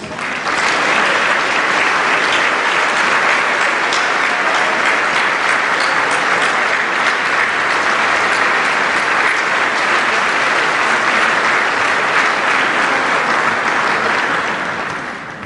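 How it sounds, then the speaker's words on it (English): Sustained, loud applause from a banquet audience honoring the Catholic Charities board, management and staff, an even roar of many hands clapping that holds for about fifteen seconds before tapering at the end. "Let's give you a big round of applause."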